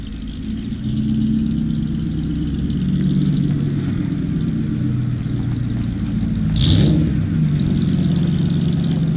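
A 1994 Ford F150 4x4 pickup engine runs steadily with a low rumble, rising into a brief rev partway through, then settling back to a constant drone.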